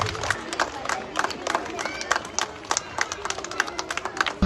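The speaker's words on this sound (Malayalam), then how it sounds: "എല്ലാവരും നന്നായിട്ട് കൈയടിക്കുക." Audience applause at a government LP school anniversary celebration, a dense crowd of clapping hands with scattered cheers, steady and fairly close throughout.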